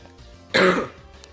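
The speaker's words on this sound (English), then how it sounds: "oh my gosh, I have to cough." A person coughs once, a short loud burst close to the mic, with quiet room tone around it.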